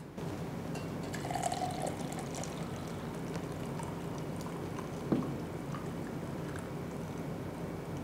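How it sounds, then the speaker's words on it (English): Tea pours steadily into condensed milk in a soft continuous trickle, fairly quiet and close, with a small clink partway through. "let's pour the tea into the condensed milk"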